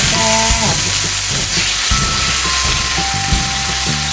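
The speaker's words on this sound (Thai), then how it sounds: "หม้อต้มหม้อต้มเดือดแล้วเห็นไหมคะ" An electric shabu hot pot full of water bubbles and hisses as it boils, making a dense, steady, loud roil up close, with faint tonal hums running underneath.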